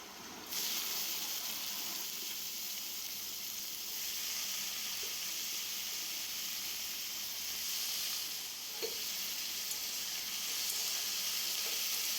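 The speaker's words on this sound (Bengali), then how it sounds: "পেঁয়াজটা আমার একটু ভাজা হয়ে এসেছে। এবার আমি দিয়ে দেবো চিচিঙ্গাটা।" Snake gourd and onions frying in a pan give a steady, close sizzle and hiss that runs unbroken throughout, with a few faint clicks and no voices.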